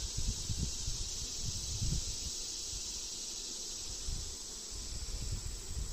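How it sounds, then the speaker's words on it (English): Honey bees crawling on both sides of a hive's inner cover during a feeding and inspection, a soft continuous buzz with low rustling bumps close by, no voices. "There's bees on both sides of the inner cover."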